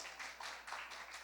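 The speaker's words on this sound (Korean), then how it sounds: "저 뒤에 있는데 박수 한번 주세요." A church congregation claps briefly for young visitors during a Sunday service, a soft, distant patter of hands with a few rhythmic bursts.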